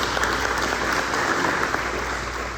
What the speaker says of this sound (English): So how about a round of applause for Liz as well?